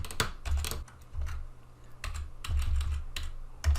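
Short bursts of clicky keystrokes on a computer keyboard while entering Scheme code, irregular clusters of taps with brief pauses between them, close and fairly quiet.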